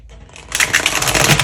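Tarot cards are shuffled close up in a short burst, a soft riffling rush that swells halfway through and continues dense to the end.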